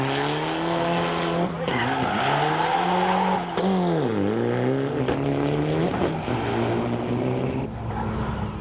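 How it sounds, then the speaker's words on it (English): Rally cars on a 2005 Volkswagen Rally stage squeal their tyres in long wailing skids that bend in pitch, over revving engines, with loud overlapping screeches coming and going nearby. "With tortured tyres screaming in protest at the abuse meted out of them, the teams filed through the stage"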